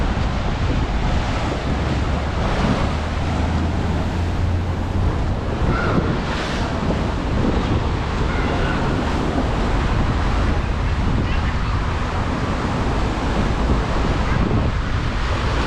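Big waves surge along the Davao coastal road near the Sta. Ana wharf bridge site, a continuous loud roar of rushing surf mixed with wind buffeting the microphone.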